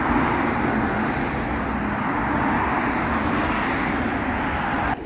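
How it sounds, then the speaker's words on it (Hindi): Road traffic with moving vehicles makes a continuous, dense roar, loud and unbroken from start to end with no single vehicle standing out. "और ये गाड़ियों का शोर और ये गाड़ियाँ चलते हुए कितना खूबसूरत लग रहा है।"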